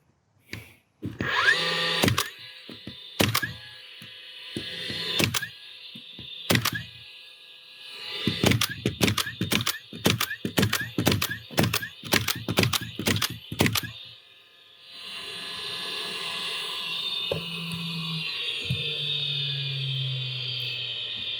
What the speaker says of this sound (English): let's go ahead and shoot off a few nails